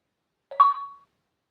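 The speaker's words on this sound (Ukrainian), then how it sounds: "У мене там всякі повідомлення приходять." A single short phone notification chime rings out alone, a brief rising electronic tone of about half a second, clear and close against silence.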